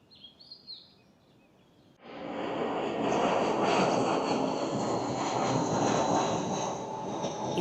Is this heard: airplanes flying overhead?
yes